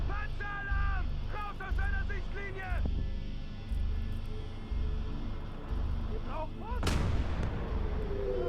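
Heavy artillery gun in the Call to Arms Gates of Hell Ostfront battle, firing repeatedly with loud booming blasts and one sharp close shot near the end, over continuous battlefield rumble.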